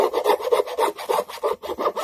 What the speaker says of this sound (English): it's pretty much filing